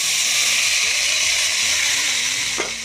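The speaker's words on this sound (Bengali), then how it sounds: "ভাজা হয়ে গেছে আমি এবার শাকটা দিয়ে দেবো" Fenugreek greens hitting hot oil in a home kitchen pan, giving a steady, loud broadband sizzle and hiss that fills the whole clip with no talking.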